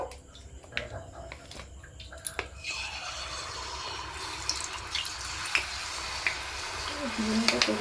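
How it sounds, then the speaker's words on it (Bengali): Jalebi spirals dropped into hot oil give a steady, close sizzling crackle that swells after a brief clatter and keeps bubbling to the end. "এরপরে আমি জিলেপিগুলো ভেজে নেব"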